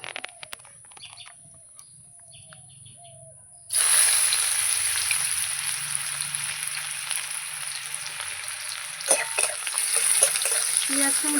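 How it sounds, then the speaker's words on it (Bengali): Onions dropped into hot oil burst into a loud, steady sizzle that continues for several seconds without any talk, following a quieter stretch of soft clinks. "তেল আমার গরম হয়ে গেছে প্রথমে পেঁয়াজটা দেবো"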